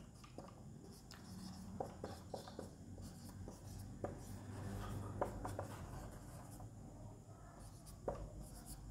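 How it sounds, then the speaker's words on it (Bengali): Handwriting on a board during an agriculture lesson, a run of close, faint scratchy strokes and taps in irregular bursts, with no talking. "আমি আগে লিখে নিচ্ছি এখানে।"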